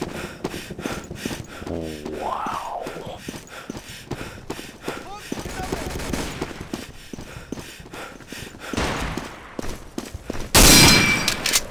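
Gunfire from the World War II shooter Day of Defeat: Source crackles in a dense series of sharp shots and bursts, with footsteps and a loud blast near the end, while players talk over it.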